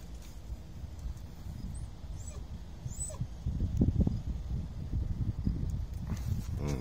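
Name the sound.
dogs at feeding time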